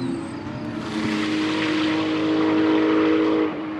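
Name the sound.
race cars, including Porsche GT cars, racing on track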